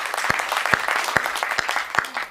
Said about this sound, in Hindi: अच्छा मैं खड़ा हुआ हूं तो एक बार मेरे सम्मान में भी ताली बजाओ।